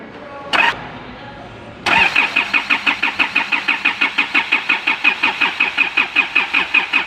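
Isuzu Altera engine cranking after a short starter blip, the starter churning in a steady fast rhythmic chug for several seconds without catching, loud and close.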